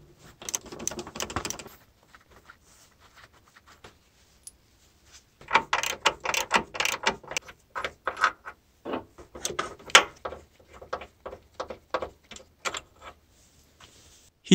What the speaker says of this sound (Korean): 히치판 부분을 고정해 주던 볼트 4개를 완전히 제거했습니다